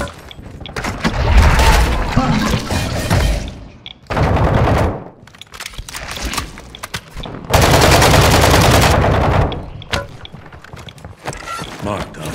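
Loud, close gunfire in Call of Duty Warzone during a Halloween haunting event, sustained automatic bursts broken by short pauses, with voices under the shooting.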